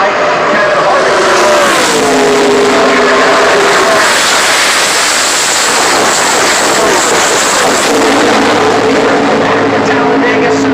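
NASCAR race cars roaring around Talladega Superspeedway, a loud continuous wall of engine noise with pitch sweeps as the pack passes, with a commentator talking over it throughout.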